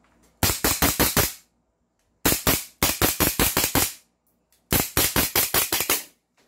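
A 1911 airsoft gas blowback pistol fires three quick bursts of about five to seven sharp, loud cracks each, with brief silences between the bursts.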